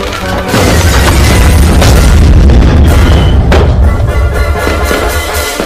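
Deepavali firecracker exploding indoors in an office, a loud booming blast that starts abruptly after a brief lead-in and leaves a dense, roaring rumble with crackling debris for several seconds.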